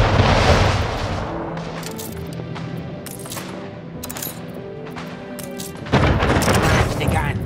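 Cannon fire during a harbor attack in the Anno 1800 video game, booming shots and a rattling volley over a rumbling backdrop, with a fresh loud blast near the end.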